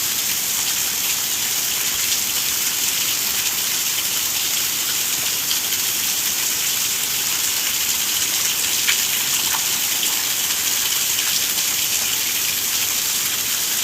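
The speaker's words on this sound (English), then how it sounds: "He's been out all day in the rain." Rain falls steadily on a burrowing owl's outdoor enclosure, giving a loud, even hiss that runs unbroken throughout without any voices.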